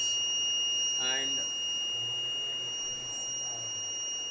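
An IoT vehicle accident detection device's buzzer sounds a steady, thin high-pitched tone that continues throughout, with a brief voice near the start.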